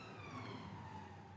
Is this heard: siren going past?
yes